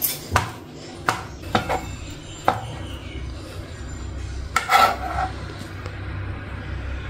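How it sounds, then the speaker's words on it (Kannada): A knife cuts through six boiled eggs on a board for egg masala, with several sharp chopping taps spaced unevenly, a brief scrape, and a cluster of knocks near the middle, close and moderately loud with no talking. "ಈಗ 6 ಮೊಟ್ಟೆನೂ ಈ ಥರ ಕಟ್ ಮಾಡ್ಕೊತೀನಿ."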